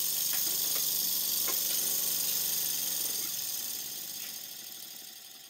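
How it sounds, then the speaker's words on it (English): An old miniature steam engine runs steadily at close range, a continuous mechanical whirr with a faint rapid ticking and a few light clicks, fading toward the end. "Time for me to stop talking and just let you listen and watch the engine running."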